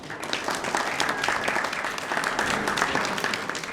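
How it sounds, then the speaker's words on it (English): Wedding guests break into a round of applause during the reception speeches, a dense, fairly close clapping that carries evenly from start to finish with no talking over it. "A round of applause."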